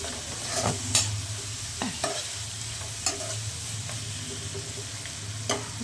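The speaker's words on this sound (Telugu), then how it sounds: "కారం వేసిన తర్వాత మంచిగా కలుపుకోవాలి" Cluster bean stir-fry with chili powder is stirred in a hot pan, with repeated scraping strokes of a spatula over a constant close sizzle.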